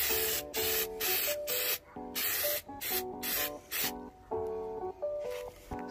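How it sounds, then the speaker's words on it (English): An aerosol spray can lays thick primer onto a train surface outdoors in short and long hissing bursts, close and loud, separated by brief gaps, with occasional faint tonal rattles from the can. "Quite thick primer, so you just want to give it a coat from far away."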